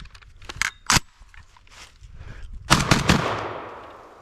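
Fostech Origin 12 shotgun firing number 8 BioAmmo, a few sharp close blasts spaced irregularly followed by a quick burst of shots and a lingering outdoor echo, no talk.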